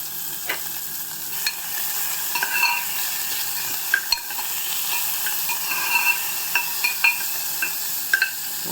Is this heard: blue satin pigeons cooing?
no